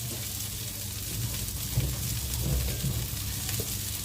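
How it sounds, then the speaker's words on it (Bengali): Cauliflower frying in a pan while cooking a vegetarian khichuri with gobindobhog rice, giving a steady close sizzle with a few brief stirring knocks. "ফুলকপিটা বেশ কিছুটা ভাজা হয়ে গেল"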